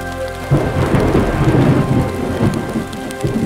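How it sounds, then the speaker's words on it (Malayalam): Heavy rain pours beneath a banyan tree at a roadside shrine in Kollengode, Palakkad, with thunder rumbling low through a dense, steady downpour that sets in abruptly and continues loud and close. "ഞങ്ങളവിടെ എത്തി കുറച്ച് കഴിഞ്ഞപ്പോൾ നല്ല മഴയൊക്കെ പെയ്തു."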